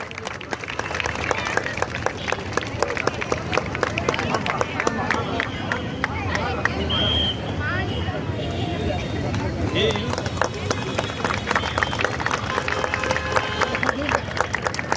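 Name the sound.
audience applauding at flag hoisting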